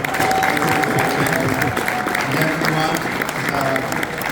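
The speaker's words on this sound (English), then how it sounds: "So, applause for Jennifer." A crowd at a chess boxing match applauds a chess player, a loud continuous roar of clapping with some crowd noise mixed in, sustained throughout.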